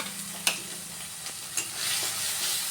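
Ginger-garlic paste sizzles with lightly fried onions in a pan, a steady close hiss broken by a few sharp utensil taps and scrapes as it is stirred, with no talk.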